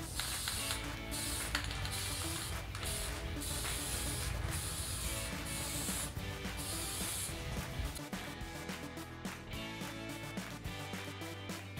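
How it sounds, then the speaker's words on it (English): Clear polyurethane spray coating bare natural wood, a fairly quiet continuous aerosol hiss running throughout with small rattling bursts and brief pauses between sprays. "I'm just gonna spray it with a polyurethane spray just to kind of protect it"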